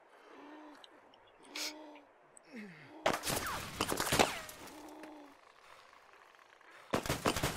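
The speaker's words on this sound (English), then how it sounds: "let me speak over the 50 cal. It's really loud." A .50 caliber machine gun in the video game DayZ Overpoch fires in heavy bursts between quieter stretches. One long burst comes midway and a short burst comes near the end, loud and punchy.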